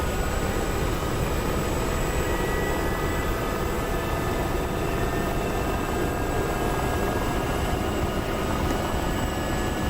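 An AH-64 Apache helicopter in the DCS World flight simulator game drones with a steady, loud rotor and engine roar that stays even throughout, with no talking.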